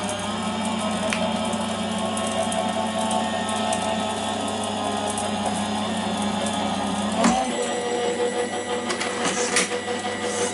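A Gemini die-cutting machine runs an embossing pass, a steady mechanical motor whir and hum with a sharp clunk partway through, loud and close with no talk.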